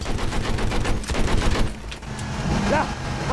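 Rapid bursts of automatic gunfire in the video game Battlefield 4, dense repeated shots for about a second and a half, then a quieter stretch with vehicle noise underneath.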